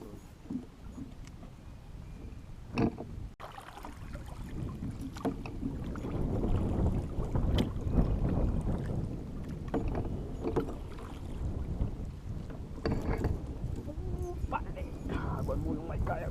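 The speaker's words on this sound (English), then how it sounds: "I'm moving my kayak when I hook a fish." A kayak moving on a lake during bass fishing, with water sloshing and paddle splashes swelling and fading in irregular bursts, close by, while a person talks over it.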